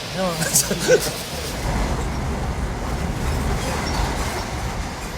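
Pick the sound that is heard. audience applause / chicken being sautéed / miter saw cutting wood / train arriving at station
train arriving at station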